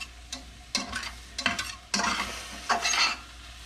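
Black trumpet mushrooms cooking in a pan, with a close sizzle and bursts of scraping as a utensil stirs them, in uneven strokes with short pauses between.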